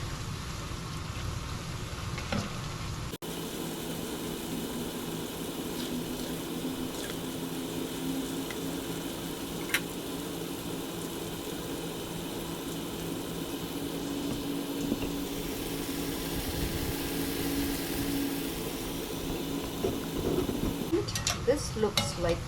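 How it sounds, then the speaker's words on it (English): Soya chunks frying in a pan, a steady low sizzle running continuously for the whole stretch, with a few faint clicks and scrapes near the end. "I'm going to fry this until it starts to be a little bit crisp on the crispier side"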